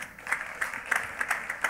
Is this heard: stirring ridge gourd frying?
no